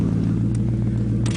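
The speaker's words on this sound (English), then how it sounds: "it makes the engine a lot more loud as far as like up front" A Ford Taurus SHO engine fitted with a K&N air filter idles close by, a loud, steady low rumble with small fluctuations and no voices.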